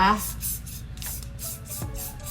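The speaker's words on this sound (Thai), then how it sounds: "เราก็ใช้สเปรย์นะคะ มาฉีดเพื่อล็อกหลอนไว้นะคะ" Hairspray from an aerosol can misted onto styled hair to hold it in place, a run of short hissing sprays repeated in quick bursts while someone talks over them.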